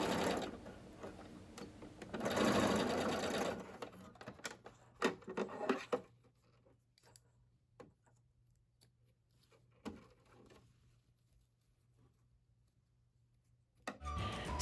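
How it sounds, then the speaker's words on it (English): A sewing machine stitches down the casing on homemade pajama pants, running in a loud continuous burst for the first few seconds, then short stop-start stitching bursts and a hum before falling quiet, with a final burst at the end. "sew that casing down so that there's not a hole there"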